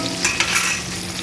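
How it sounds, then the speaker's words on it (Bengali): Bitter gourd frying in hot oil in a wok makes a brief, loud, steady sizzle with a light scrape or two of stirring, and no voices. "ওই করলাটা ভালো করে ভেজে নেবো আগে।"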